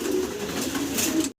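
A male pigeon coos close by, a low throaty rolling call in a pigeon loft, ending abruptly.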